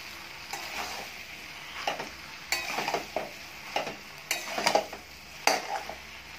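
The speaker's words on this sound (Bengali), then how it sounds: "চিংড়ি মাছটা দিয়েও আমি ভালো করে কষতে থাকবো।" Fried prawns, potato and pointed gourd being stirred in a pan, with a steady low sizzle broken by repeated scraping and clinking strokes of a spatula against the metal, close and moderately loud, no talking.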